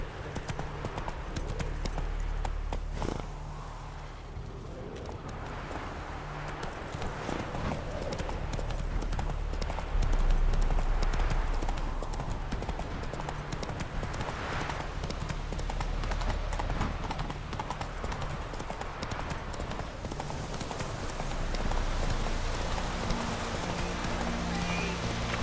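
Horse hooves galloping in a steady, rapid clip-clop rhythm as Geralt's horse Roach runs in The Witcher 3 video game, continuing throughout over low rumbling ambience.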